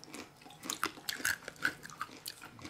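Crunchy Bombay mix, gram-flour noodle snack, chewed close to the mic: a quick series of sharp, dry crunches and bites over a few seconds, fairly quiet with no talk.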